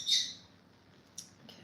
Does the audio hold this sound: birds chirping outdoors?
yes